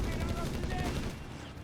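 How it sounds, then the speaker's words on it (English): Nebelwerfer rocket artillery firing in Company of Heroes 3, a brief dense burst of rumbling booms and crackling blasts that fades toward the end. "more Nebelwerfer fire here"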